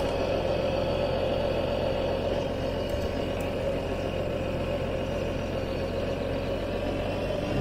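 Idling engine of a Renault 610 RZ tractor in a farming simulation game, a steady low rumble with a constant hum that holds level and unbroken throughout, with no voices.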